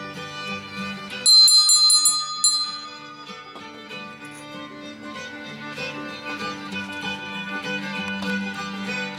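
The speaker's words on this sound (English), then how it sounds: "let's ring the bell and get this class officially started for this unboxing." A bell is rung to open an unboxing session in a sewing machine repair workshop: a few bright, ringing strikes close together near the start, decaying over soft hymn music that continues throughout.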